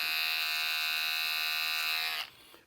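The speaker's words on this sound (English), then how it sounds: "I prefer the shaver." A steady, high-pitched electric shaver buzzes loudly and continuously trimming sheepskin, then cuts off abruptly near the end.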